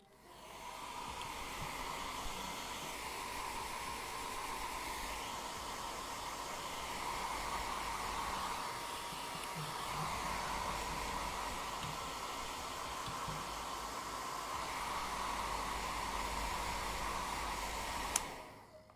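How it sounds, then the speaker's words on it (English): A hair dryer blows steadily and close for the whole stretch, a continuous broadband rushing hiss with a faint tonal hum, briefly stopping with a small click near the end. "quick whack with the hairdryer again"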